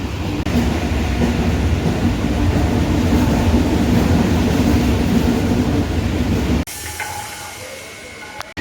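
A crowded suburban commuter train heading toward Sealdah passes at Piali station, a loud continuous rumble and rattle of wagons that cuts off abruptly near the end, leaving quieter ambient noise.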